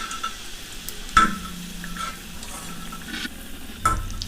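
Cauliflower pakoras in gram-flour batter sizzle softly in hot oil, being half-fried, with two sharp utensil clinks against the pan; no talk.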